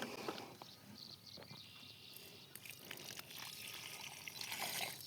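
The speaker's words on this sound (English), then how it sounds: "I'm just gonna pour some water in here again." Water is poured into the soil around a newly planted tree outdoors, a faint, irregular trickling and splashing heard at a distance.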